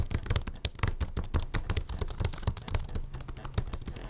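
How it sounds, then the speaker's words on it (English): Rapid typing rattles on the UPERFECT lapdock's short-travel laptop keyboard, the keystrokes close and crisp in a dense, fairly even stream with no talking. "I'll let you hear the keyboard just so you can get a sense of the keys."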